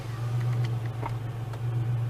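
A car's noisy power steering pump with the engine running, heard as a steady low droning hum with a faint whine layered above it, continuous and fairly close throughout.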